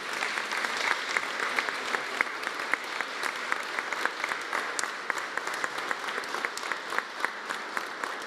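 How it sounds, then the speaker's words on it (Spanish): A seated audience applauds award-winning teachers at a Teachers' Day celebration, with dense, even clapping that holds steady and fairly soft for several seconds, with no talking over it. "El reconocimiento de nuestro aplauso para todos los maestros galardonados."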